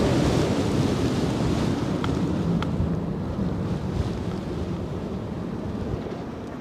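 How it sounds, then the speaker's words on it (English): Strong crosswind roars at Newcastle Airport in wild early-snow weather, a loud, steady rush of wind buffeting the microphone that eases slightly toward the end. "here comes the wind"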